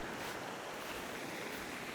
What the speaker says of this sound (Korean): 그가 도착한 곳은 어린 시절 자주 찾았던 바닷가입니다